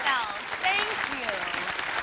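Studio audience on a Los Angeles talk show claps and cheers for guests, a dense wash of applause with voices and whoops riding over it throughout.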